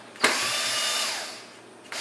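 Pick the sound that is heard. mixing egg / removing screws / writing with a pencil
removing screws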